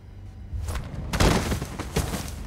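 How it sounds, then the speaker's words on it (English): Gunfire in the video game Beyond: Two Souls sounds as a ragged burst of booming shots and thuds, loud and close, that starts about halfway through and continues in uneven bursts to the end. "Well, I found where the gunshots are coming from."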